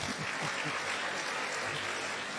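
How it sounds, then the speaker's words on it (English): Students at a university health sciences freshers' orientation at KNUST clap briefly, a dense, fairly distant wash of applause with no voices over it. "Can't you clap for that?"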